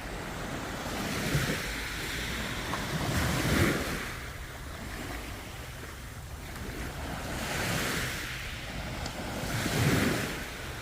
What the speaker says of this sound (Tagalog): Lumalakas ang alon.